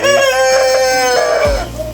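A tiger Sasso rooster gives a single loud, close crow, its harmonic call held steady and then dropping off at the end.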